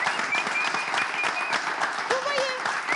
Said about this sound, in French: On va applaudir Blandine